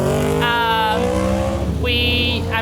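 Motorbike engines pass along a scenic rural road, with steady loud low engine drone and two rising revving whines, one after the other, close by throughout.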